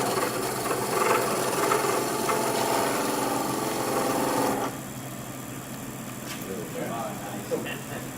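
A skew chisel slices wood shavings from a spinning workpiece on a lathe, giving a steady close rasping hiss that drops to a softer scrape partway through, with talk alongside.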